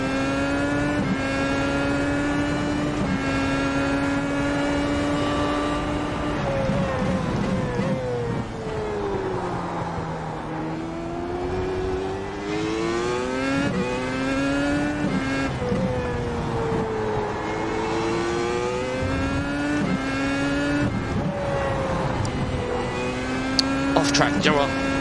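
Race car engine in iRacing at Laguna Seca, revving steadily through gears with pitch climbing and dropping as the car accelerates and brakes, loud and continuous for the whole stretch.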